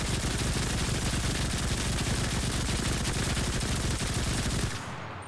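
Sustained rapid automatic fire from a high-recoil gun in the shooter game Enlisted, a loud unbroken rattle of closely spaced shots lasting nearly five seconds before cutting off abruptly, with no talking.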